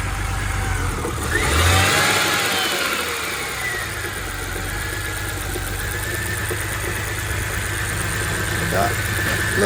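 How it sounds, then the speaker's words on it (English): A BMW E90 idles after an engine swap with a slight misfire, a steady mid-pitched running note that swells briefly early on, then settles into a continuous near idle while people talk over it. "Got a little bit of a misfire."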